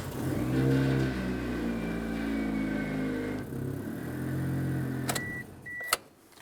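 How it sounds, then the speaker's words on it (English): A 2003-2008 Toyota Matrix engine idles steadily with a low hum, a brief rev and whine near the middle, then a couple of sharp clicks and a short electric whir toward the end. "Let's go ahead and run the vehicle now"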